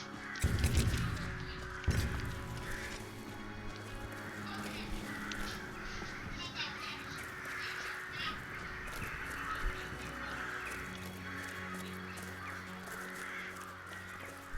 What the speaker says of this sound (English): Boy, them crows are loud.